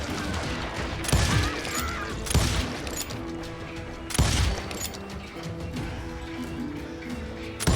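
Gunfire in the Western shooter game Call of Juarez Gunslinger, with several loud booming shots spaced a second or two apart over a constant busy background of game ambience and clatter.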